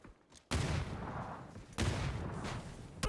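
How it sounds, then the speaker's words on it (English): Grenade blasts and gunfire erupt in a PUBG match as a few sudden, loud booms. Each one is followed by a rumbling, crackling tail of shots. "More nades coming out, more shots coming out."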